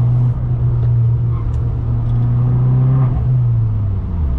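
An Abarth 500 fitted with Eibach lowering springs drives and corners, its engine a steady low drone heard from inside the cabin with a slight pitch shift partway through.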